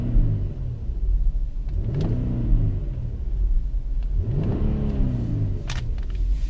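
A 2017 Infiniti QX50 with a naturally aspirated 3.7-liter engine accelerates twice, each time rising from a deep, loud rumble into a climbing rev, heard from inside the car with no talking.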